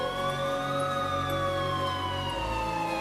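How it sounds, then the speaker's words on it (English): An emergency siren wails in the distance, its pitch slowly rising and falling over a few seconds, faint and steady beneath a low background hum. "until I finally heard sirens in the distance"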